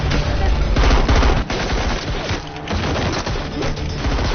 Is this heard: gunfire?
yes